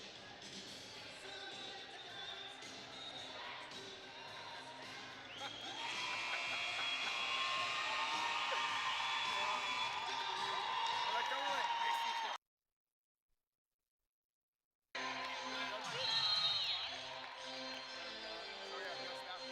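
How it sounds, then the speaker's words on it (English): A home basketball crowd full of young Mustang fans roars loudly at a Seniors Day game, building to a sustained cheer before a sudden cut to silence, then resuming noisily. "A lot of big fans here, a lot of young Mustang fans here, making it nice and loud."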